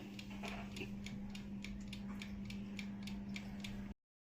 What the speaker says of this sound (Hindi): यहाँ मैंने रोटरी पे रख दिया है और इसे मैं अब 30 मिनट के लिए ऑन करूँगी